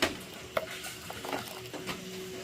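A pot of salt sothi, a coconut milk soup with tamarind added, simmers while a spoon stirs and scrapes through it, with soft bubbling and a few sharp clinks against the pot. There is no talking.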